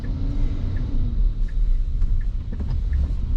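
Car driving itself on Tesla FSD Beta 9.2 through construction zones at Orlando Airport, a steady low road rumble and engine hum throughout with faint ticks over the top, no talking.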